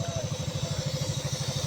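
Motorcycle engine idling at a railway station platform, a steady low pulsing throb with rapid regular beats, fairly close and continuous.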